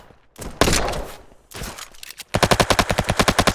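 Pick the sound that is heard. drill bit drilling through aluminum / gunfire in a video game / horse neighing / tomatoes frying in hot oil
gunfire in a video game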